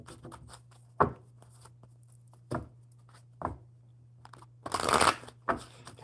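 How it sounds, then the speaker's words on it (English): Tarot cards being shuffled during a live card-reading session, a few separate riffling bursts and soft taps spaced apart over a faint steady hum. "one more good shuffle for you, and we'll see what the tarot has"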